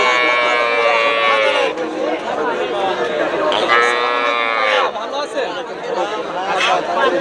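Cattle moo repeatedly at close range, long lowing calls overlapping amid crowd chatter at a busy cattle market in Bhangura, Bangladesh, where heifers are sold.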